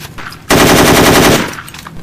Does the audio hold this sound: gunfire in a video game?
yes